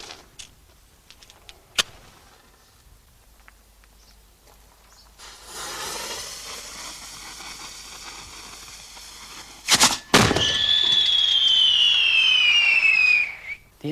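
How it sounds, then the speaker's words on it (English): A firework mortar fires: a sharp bang, then a loud whooshing burst as the cylindrical shell is launched, followed by a high whistling hiss trailing off over several seconds. "This is actually a firework mortar, and it forces out this cylindrical shell"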